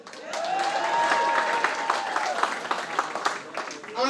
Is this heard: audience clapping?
yes